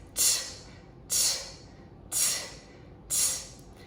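A voice imitates a train with four evenly spaced, breathy hissing bursts, close and rhythmic, like steam chuffing.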